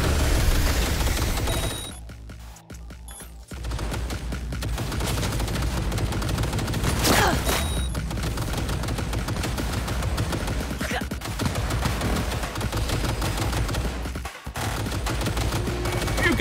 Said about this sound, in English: What are you guys shooting at exactly?